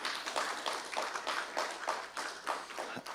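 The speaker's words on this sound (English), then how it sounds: "So you need an extra clap for that" An audience claps steadily through the whole stretch at a financial lecture, dense even applause at moderate loudness with no talk over it.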